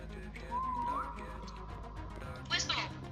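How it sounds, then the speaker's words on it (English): Whistling inside the SCP 3008 video game: one rising whistled tone held for about half a second over steady game background noise, followed later by a brief bright burst. "I'm whistling again in 3, 2, 1."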